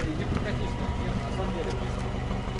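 The engine of a 1968 GAZ-21 Volga car runs with a low, even idle rumble, moderately quiet, while people talk over it.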